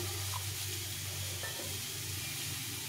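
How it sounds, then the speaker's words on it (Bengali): Onion, potato and bitter gourd fry steadily in a pan, a continuous close sizzle with faint stirring scrapes and no talking. "এটা ভাজা হচ্ছে, পেঁয়াজ আলু আর করলাটা লবণ হচ্ছে"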